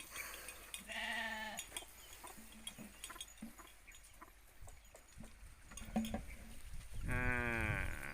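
Goats and sheep bleat near a mango orchard: a long wavering bleat early on, shorter calls in between, and a loud quavering bleat near the end, heard close against a background of farm noise.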